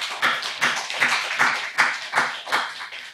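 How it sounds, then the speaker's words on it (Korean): A church congregation claps together in a steady rhythm, about two claps per second, the sharp group claps repeating evenly and close by with no talking. "우리 박수 한번 하겠습니다"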